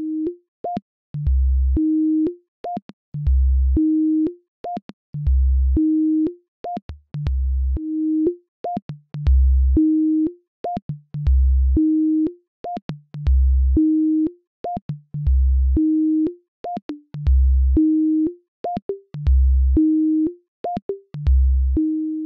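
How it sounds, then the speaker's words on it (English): Synth sequencer notes played in Reaktor 6 with glide switched on: a steady, repeating pattern of short electronic tones, each sliding smoothly up into the next pitch over a low pulsing bass note, loud and clean with no voices. "Now you hear the glide, and with the dial you can set the glide time."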